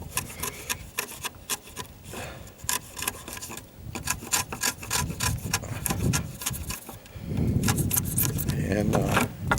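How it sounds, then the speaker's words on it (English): Wood being pared and cleaned up with a chisel while building a chicken coop, giving repeated close rasping, scraping strokes that grow louder toward the end, with a voice talking underneath. "And then to clean it up, just use our chisel."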